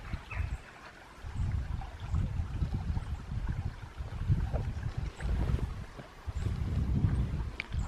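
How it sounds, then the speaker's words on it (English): Water flowing in a stream beside an ancient countryside footpath in England, a steady close rush with surging low rumble and some wind buffeting across the whole stretch, no talking. "And the sound of the water."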